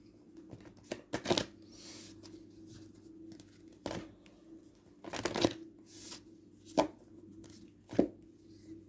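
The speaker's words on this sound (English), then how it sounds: "I'm gonna pull another card, actually, because if she comes out again," Tarot cards are shuffled in a few quick, riffling bursts with short quiet gaps between them, close by, with no talking.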